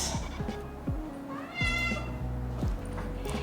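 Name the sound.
ragdoll cat meowing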